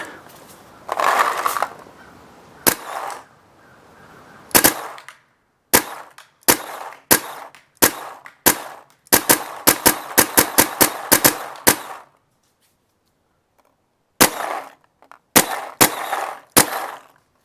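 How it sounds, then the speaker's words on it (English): Proto PMR paintball marker fitted with a Hatred board firing around twenty shots, sharp close pops in irregular bursts, including a rapid string, separated by quiet gaps. "That was about 20 shots with my Proto PMR."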